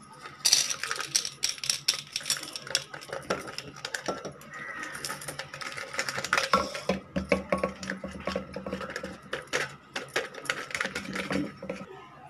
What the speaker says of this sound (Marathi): हे सगळं मक्याचे दाणे टाकलेले थोडं जसं पसरून घेतलेले